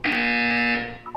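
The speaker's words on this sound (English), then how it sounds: "When you hear the buzzer, look down at the floor." A loud, steady electronic buzzer from the video game Portal 2 sounds alone as one sustained tone lasting about a second, then cuts off.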